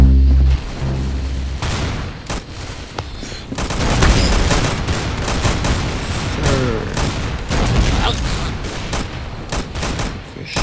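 A rocket blast in a Roblox shooter game launches the player upward, heard as dense, busy bursts of explosive and gunfire-like pops over a loud, continuous game soundscape.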